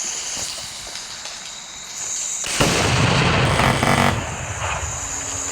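A rocket firework bursts outdoors, a loud rushing roar of crackle rising over steady background noise and fading after a couple of seconds.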